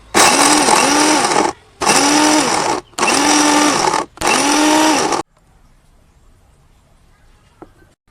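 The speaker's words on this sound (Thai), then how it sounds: "ปิดฝาแล้วก็เปียบไปก่อน แล้วก็ปั่นหรือเบรนดิ้งไป" A blender whirs through herbal face mask ingredients, turmeric and white clay, in four loud close pulses of about a second each with short gaps, then falls quiet.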